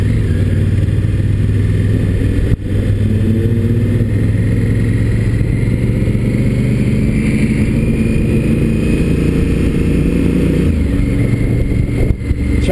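A 2016 Honda Africa Twin motorcycle riding around town, its engine a steady, loud, continuous drone with low rumble and smooth, even tone throughout, no talking.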